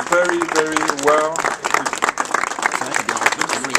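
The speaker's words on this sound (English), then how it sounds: "I think she really deserves your applause" Audience at an embassy press gathering breaks into applause, a dense round of clapping from many hands right after a brief spoken line, continuing steadily near the microphone.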